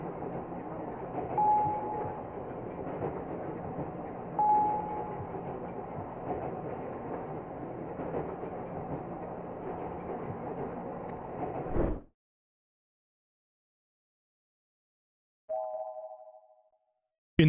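A subway train ride in a Nintendo DS video game, The Nameless Game: a steady rumbling rattle of the moving carriage runs for about twelve seconds, then cuts to silence before a short electronic chime.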